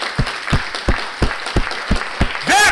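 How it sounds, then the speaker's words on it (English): An audience at a talk on providing healthcare in Gaza claps together in a loud, steady rhythm of about three beats per second, and a voice breaks in over the last moment. "Stand up and give this man a standing applause,"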